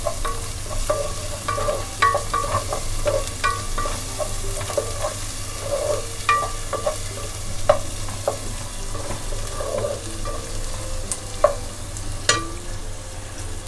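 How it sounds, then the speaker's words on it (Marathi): Ginger-garlic paste sautés with onions in oil for village-style chicken, a continuous close sizzle broken by frequent spatula clicks and scrapes against the pan, with no voices. "याच्यामध्ये थोडीशी आलं लसूणची पेस्ट घालूया. चांगली याच्यात परतून, तेलात परतून घ्यायची कांद्याबरोबर,"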